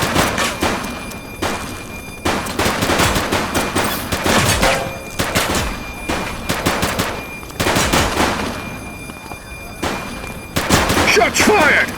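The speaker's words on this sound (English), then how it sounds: "Shots fired!" Rapid bursts of automatic gunfire and single shots crack out in a police shootout in the video game The Precinct, loud and repeated throughout, with shouted voices mixed in between volleys.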